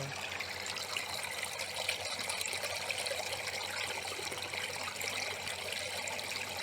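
Water gushes steadily from an Abyssinian well during hydro-drilling on a high hillside, flushing out small stones. The rushing, splashing flow is close and continuous throughout, with no speech over it.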